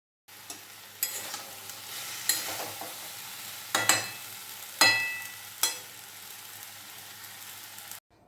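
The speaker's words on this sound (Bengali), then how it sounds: "কড়াইতে দিয়ে একটু ভালো করে ঢেকে ঢেকে একটু ভেজে নেব" Vegetables for Bengali shukto sizzle in a hot wok while a spoon or spatula scrapes and stirs them at irregular intervals, the steady frying hiss continuing between sharp stirring strokes.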